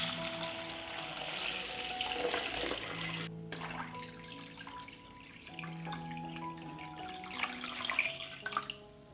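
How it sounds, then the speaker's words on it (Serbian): Water pours and gurgles into a large pot holding glass jars set on a cloth, filling steadily with rising ringing tones and some splashing, close and fairly quiet. "Sipat ću vodu do visine poklopca."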